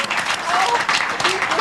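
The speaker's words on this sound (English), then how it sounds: "let's give it a clap" A small group breaks into applause, a dense wash of clapping that fills the moment while a voice talks over it.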